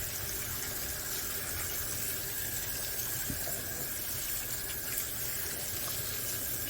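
Running water rinsing potatoes in a clean pan, a steady faint splashing gush throughout.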